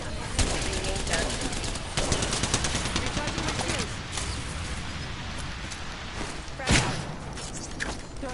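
Near, loud automatic gunfire in the battle royale game Apex Legends, in rapid bursts with scattered single shots and a heavy impact, while voices chatter underneath.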